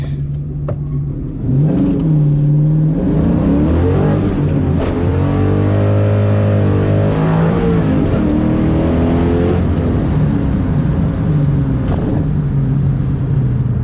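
A 1997 Mustang Cobra accelerates hard from a standstill, its engine note rising loud and close through successive gears with brief dips at each shift, steady roar filling the whole run with no talking.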